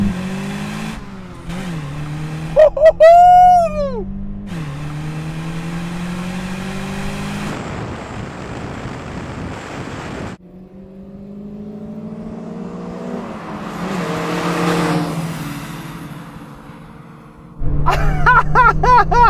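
A Volkswagen Golf GTI engine racing hard, revving and rising in pitch through several gear changes, with a high whine and shifts between pulls, loud and close throughout.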